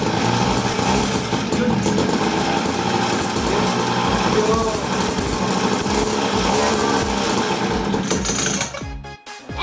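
A small high-revving pocket bike engine, a Raptor 87 fitted with an exhaust canister, runs steadily at close range with a muffled, buzzing exhaust note, then cuts off abruptly near the end.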